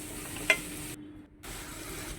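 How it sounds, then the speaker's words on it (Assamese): Brinjal frying with green chillies in a pan while cooking an Assamese fish curry with elephant apple, a steady low sizzle with a faint stir, no talking. "তাৰপৰা এইদৰে বেঙেনাখিনি ভাজি থাকিম অলপ টাইম"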